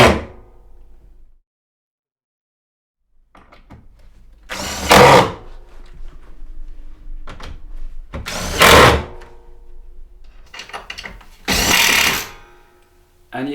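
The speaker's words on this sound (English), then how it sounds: "Lou's going to put those last 4 screws in to secure these 4 boards" Power drill driving screws into StoreFloor loft boards laid over 270mm insulation, three loud bursts of whirring a few seconds apart, each about a second long, with quieter handling noises and thuds between them.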